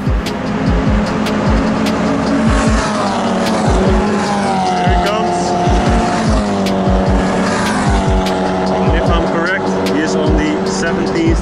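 Mazda MX-5 race cars speed past on the Assen circuit during a cup race, their loud engines rising and falling as they pass one after another, with brief tyre squeals and a voice commentating over the noise.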